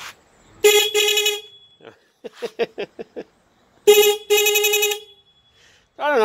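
An upgraded horn on a BMW R80/7 motorcycle sounds in two loud double blasts, with a burst of short rapid toots between them and another starting at the end, close and dominant.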